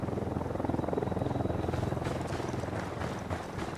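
Steady low rotor chopping of a helicopter in the video game Ghost Recon Wildlands builds through the clip, a continuous mechanical thrum with a faint whine above, getting slightly louder.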